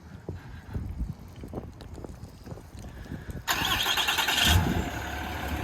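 A 6.7L Cummins diesel engine in a lifted, tuned 2012 Ram 3500 cranks briefly and then fires up, settling into a loud, steady idle that continues to the end.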